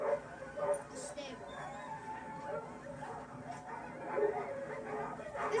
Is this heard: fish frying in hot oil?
no